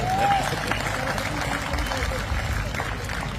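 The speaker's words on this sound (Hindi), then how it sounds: "एक बार मेरे लिए भी तालियां बजा लीजिए" Audience at a Hindi kavi sammelan poetry gathering in Barmer clapping for the poet, moderate scattered applause mixed with crowd chatter and voices.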